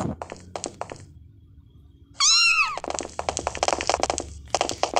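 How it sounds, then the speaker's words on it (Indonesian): Kittens meowing in the mobile game Sakura School Simulator, a loud drawn-out cartoonish meow standing alone between bursts of tapping, thumping game effects and background music. "Berhubung anak kucing meong-meong bau"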